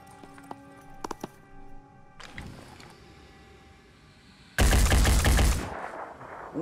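Gunfire from soldiers in the tactical video game Phoenix Point: a few sharp single shots and a short stutter early on, then a loud sustained burst of automatic fire near the end, over low background hum.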